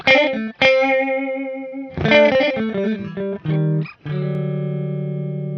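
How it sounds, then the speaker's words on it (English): Electric guitar notes through a BOSS PS-3 digital delay set to a short 32–125 millisecond delay, each chord and note thickened by fast echoes, ending on a sustained ringing chord. "digital delay, with a delay between 32 and 125 milliseconds"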